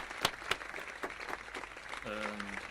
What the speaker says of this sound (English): Big applause to them too, representing Italy